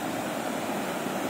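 Small river flowing over a small cement dam, a steady broadband rush of water that stays even and continuous throughout, with no voices.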